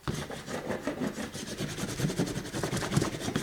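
A tool burnishes a book cover made from a recycled cereal or cracker box, giving close, rhythmic rubbing strokes that swell and fade in quick succession, with no talking.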